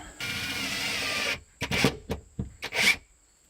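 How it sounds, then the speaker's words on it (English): A power drill driving a couple of short screws into a wall to mount a unit, a sustained whirring run followed by several short bursts and stops, close and fairly loud, with no speech. "I'm going to use a couple of short screws to get this into my wall."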